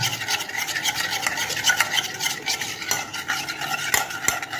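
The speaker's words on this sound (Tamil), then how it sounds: "இதுதான் நம்ம வந்து இது கூட மிக்ஸ் பண்ண போகிறோம். ஓகே. நல்லா மிக்ஸ் பண்ணி விட்டுருங்க" Baby porridge mixed with water, stirred briskly in a pot, a continuous close scraping and swishing with a few sharper knocks of the utensil, no speech.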